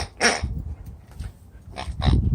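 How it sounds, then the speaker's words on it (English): A pitbull playing with a toy lets out a few short, close growls and grunts in quick bursts, with quiet gaps in between. "So right now he's just a happy dog playing with his toy"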